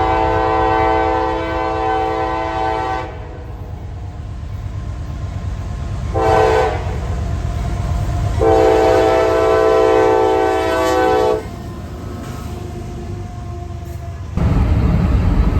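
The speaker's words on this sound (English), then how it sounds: "we have UP train ORNRP, which is an empty coke train from Rincon, Georgia to Roseport, Minnesota" Union Pacific empty coke train led by a CSX YN2 locomotive with the CSX Western Maryland heritage unit second, passing on a Minnesota–Wisconsin mainline; loud steady rumble of rolling cars with several long horn blasts, close by.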